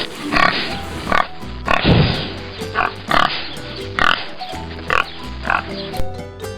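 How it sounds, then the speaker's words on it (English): A pig on a farm oinks and grunts in a series of short, loud bursts, about nine separate calls spaced roughly evenly and heard up close. "A pig says oink."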